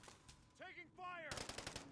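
Rapid automatic gunfire in a first-person shooter game, a burst of sharp cracks near the end following a couple of brief tonal sound effects, fairly faint overall.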